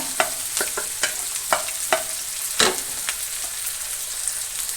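Chopped onions dropped into hot oil left over from frying chicken, crackling close up with scattered sharp pops and spits over a soft, steady sizzle, and no voices.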